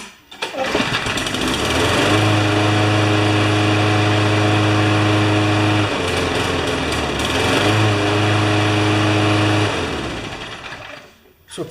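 A Craftsman lawn mower engine runs loud and close, a steady buzzing drone that dips briefly in pitch midway and then recovers before cutting back near the end.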